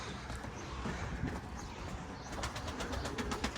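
Pigeons flown in light drizzling rain coo and flutter faintly nearby, with soft wingbeat-like pulses toward the end over a low, steady outdoor background.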